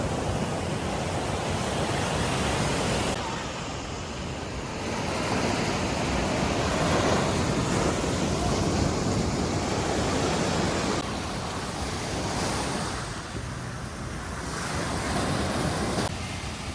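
Ocean waves break steadily on a beach at Nha Trang, a continuous loud wash of surf with rising and falling swells and some wind buffeting the microphone, no voices.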